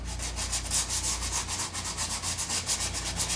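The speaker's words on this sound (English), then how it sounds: "I'm taking a little 150 sandpaper and catching that bevel on the edge" Hand sanding along a wood cabinet rail with folded fine-grit sandpaper, from 150 to 220, easing a beveled edge: steady rhythmic back-and-forth rasping strokes, close and fairly loud, with no talking.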